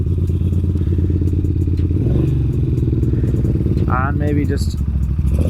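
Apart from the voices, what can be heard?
1980 Moto Guzzi V50 II twin motorcycle engine running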